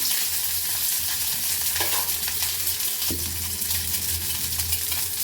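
Three eggs frying in hot oil in a pan for an Indian egg masala curry, a loud continuous sizzle throughout with a couple of brief spatula or pan knocks, close up and with no talking.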